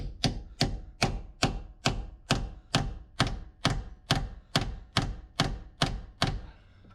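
A chisel hammered repeatedly through a Jeep JK TMR door hinge liner, about fourteen sharp, evenly spaced metallic smacks close up, each with a short ringing decay, and no talking.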